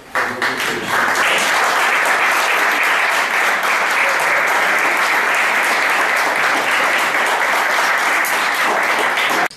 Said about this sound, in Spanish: les vamos a pedir que nos demos todos un aplauso